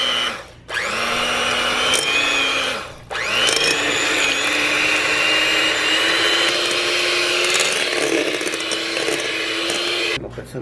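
An electric mixer whirs through cake batter with sugar and vanilla, a loud steady motor drone that cuts out twice briefly near the start and once at the end, then restarts.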